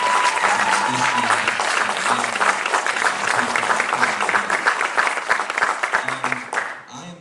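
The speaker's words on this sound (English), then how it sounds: "I think we should give a round of applause to this college" Sustained audience applause for a college at a political forum, dense clapping throughout that fades out at the end, with a murmur of voices underneath.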